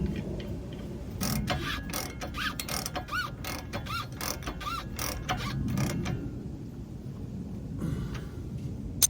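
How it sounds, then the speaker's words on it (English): Nut being put back on a Jeep JK steering stabilizer, with soft, close ratchet clicks in rapid runs, fading out near the end apart from a final tap. "then we're gonna put the nut back on the back of this one."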